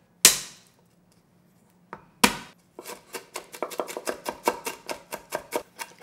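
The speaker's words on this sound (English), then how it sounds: "Nicely minced garlic and ginger." A knife minces garlic and ginger on a cutting board. Two isolated chops come first, then a fast, steady run of sharp, close knife strikes with no speech.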